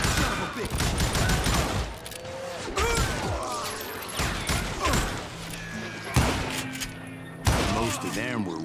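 Gunfire and shouting in the Western shooter Call of Juarez: Gunslinger, with repeated loud shots and impacts over several seconds amid music and voices.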